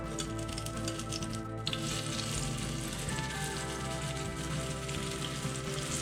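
Bread slices frying in butter in a pan for a Cuban sandwich, a close, continuous crackling sizzle that holds steady throughout without talk.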